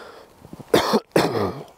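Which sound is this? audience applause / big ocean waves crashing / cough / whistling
cough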